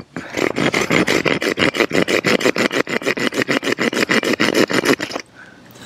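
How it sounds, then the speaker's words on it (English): Fast, rhythmic rasping strokes of the small saw blade on a survival knife cutting through soft cedar wood, about thirty even back-and-forth pulls, close and loud, then stopping. "Let's try the saw and see how well the saw works. We'll try it again on the cedar."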